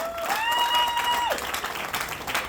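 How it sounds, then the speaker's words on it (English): Applause from an audience at a Billionaire Realtors Group unveiling event, a dense, steady patter of clapping held for a couple of seconds, with a brief whistle-like tone rising and falling over it. "Let's give them a round of applause"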